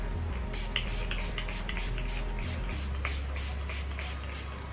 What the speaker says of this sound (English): I will actually apply face primer, sorry, setting spray to my face now